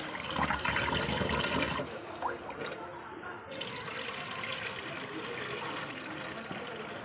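White sorghum grains are washed by hand in water, squeezed and rubbed in a bowl, with steady splashing and sloshing up close that briefly quiets partway through, then continues.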